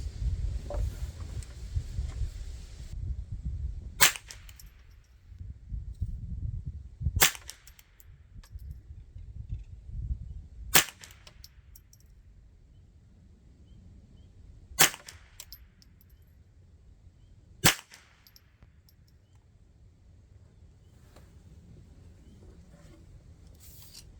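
.22 rifle shots with CCI Standard ammunition from a Ruger 10/22 or Marlin Model 60, five sharp cracks spaced a few seconds apart over quiet outdoor background noise, fairly close and crisp.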